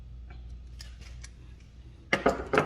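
A ratcheting wire crimping tool clicks faintly a few times, then gives three louder, sharp ratchet clacks near the end, close and alone without talk.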